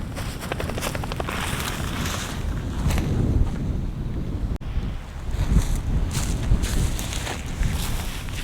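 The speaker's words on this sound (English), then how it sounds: "It's a bit breezy." Strong wind buffeting the microphone at a high alpine camp in the New Zealand Alps, loud and continuous with gusty swells and rumble.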